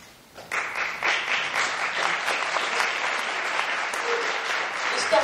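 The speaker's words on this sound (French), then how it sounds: "C'est bien que vous applaudissez, comme ça je suis pas loin des 3 minutes." Audience at an ecologist regional election meeting applauds, a sustained wash of many hands clapping that starts abruptly and stays steady throughout.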